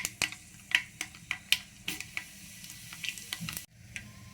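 Mustard seeds, cumin and urad dal crackle in hot oil in a pan, sharp irregular pops over a low sizzle, close up with no talk.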